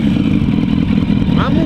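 A motorcycle engine with 170,000 km on it idles loud and close with a steady, lumpy low throb and mechanical clatter, while someone talks over it.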